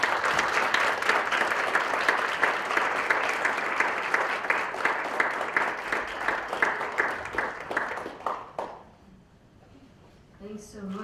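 A live audience applauds to welcome author Eula Biss at her book reading: dense, sustained clapping that holds steady and then fades away over about a second, leaving a quiet room.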